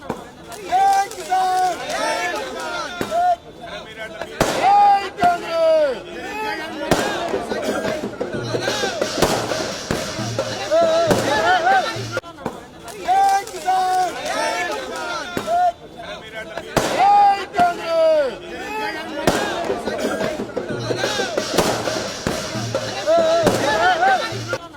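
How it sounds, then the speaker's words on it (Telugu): Firecrackers set off by party workers at a political celebration, sharp bursts repeating in clusters under crowd noise and talking. "టపాసులు కాల్చి వేడుకలు చేసుకున్నారు కార్యకర్తలు"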